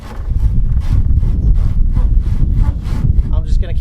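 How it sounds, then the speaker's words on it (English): A Japanese pull saw cuts through a clamped wooden countertop piece, loud, close rhythmic rasping strokes repeating steadily with no talk. "I'm using a Japanese pull saw."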